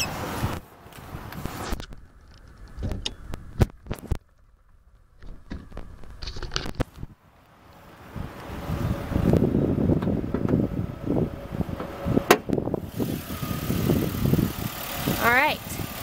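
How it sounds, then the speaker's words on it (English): A 2007 Chevrolet Impala LT's engine runs with the hood open, a steady idle rumble with clunks and handling sounds early on, then a fuller running hum with some wind noise. "All right, let's pop the hood and see it run."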